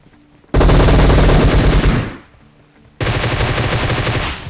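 Two loud, dense bursts of automatic Groza rifle fire in PUBG Mobile, the first about one and a half seconds long, then a brief pause before a second sustained burst.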